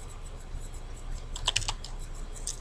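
Text is typed on a computer keyboard in a slide program: a brief run of quick, crisp keystrokes in the middle, with a couple of scattered taps later over a faint steady hum.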